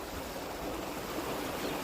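Water pours over the edge of a full pond after heavy rain, a continuous broad rushing wash like a stream. It is steady and moderately distant, with no voices.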